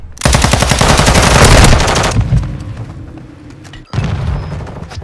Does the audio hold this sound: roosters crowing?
no